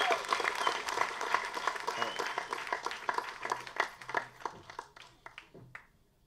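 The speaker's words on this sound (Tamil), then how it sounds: "நல்ல கரகோஷம் கொடுங்க அவங்களுக்கு." Audience applause at a film trailer launch event, a dense crowd clapping that starts loud and thins into scattered claps before fading out, with a voice briefly heard under it.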